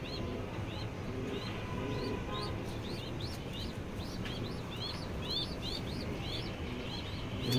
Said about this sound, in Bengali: কবুতরটা খুবই সুন্দর।